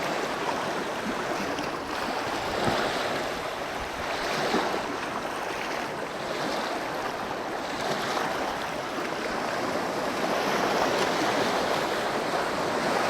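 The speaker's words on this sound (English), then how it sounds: "Come on, waves." Waves wash steadily onto the Lake Superior shore, with soft surges rolling in every couple of seconds under light wind noise, fairly quiet and unbroken.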